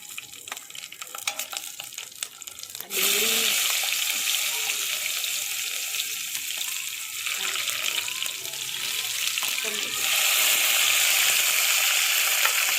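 Loud, steady sizzling of onion and garlic frying in a pan starts abruptly after a few seconds of quieter kitchen noise and continues throughout, with occasional light clatter.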